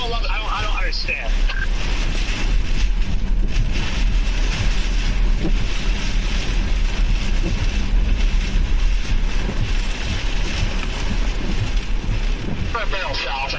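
Strong wind buffets the microphone near a Kansas supercell, a loud, continuous roaring rush with gusty low rumble throughout, and a voice speaks briefly at the start and end.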